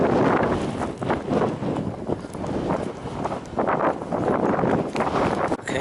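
Steady wind blowing across open hillside, a continuous rushing roar buffeting the microphone with gusty surges and no other clear sounds.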